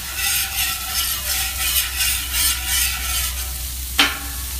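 Melted butter being spread across a hot outdoor breakfast grill, giving a steady close sizzle with rhythmic scraping strokes and a sharp metallic clack near the end.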